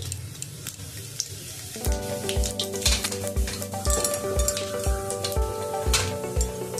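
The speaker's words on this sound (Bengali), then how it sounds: "ওই তেলের মধ্যে আমি একটু জিরে ফোড়ন দিয়ে দিচ্ছি" Cumin seeds hit hot oil for tempering and burst into a bright, crackling sizzle that builds after a quiet start, with rhythmic scraping and stirring clinks against the pan, close and steady.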